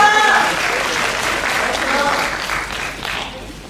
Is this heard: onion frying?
no